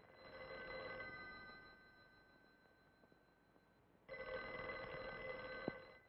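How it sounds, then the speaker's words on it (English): A 1940s dial telephone's bell rings in two long, evenly spaced bursts with a pause between them, a bright metallic trill heard alone and fairly close. "Sure, that's Grandma's telephone ringing."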